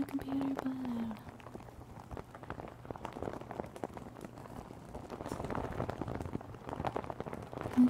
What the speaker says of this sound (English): It's always raining outside.